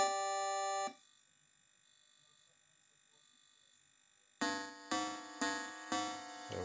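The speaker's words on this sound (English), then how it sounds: "And we get that cool buzzing sound." A Vectrex game console from 1982 is switched on. Loud tonal buzzing comes first, then a quieter steady hum, and then a run of rhythmic buzzing pulses starts again.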